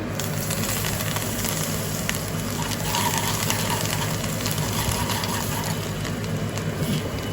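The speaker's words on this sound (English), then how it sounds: "Look at this sizzling hot tadka." Steady hot-oil sizzling of a tadka for dal with degi mirch and chopped coriander, a continuous crackling hiss at close range with no talking.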